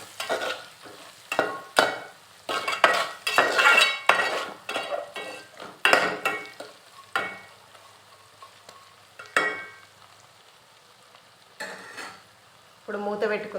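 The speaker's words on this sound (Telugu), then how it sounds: "పసుపు, కొంచెం అల్లం వేసుకొని మంచిగా కలుపుకోవాలి." A spoon stirs turmeric and ginger paste in a hot pan, a series of close scraping, sizzling strokes with short pauses between them and no voices.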